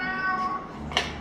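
A cat meows at feeding time: one short, clear meow near the end, after a softer drawn-out cry, close by and with no talk.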